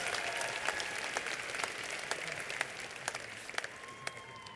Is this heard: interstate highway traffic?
no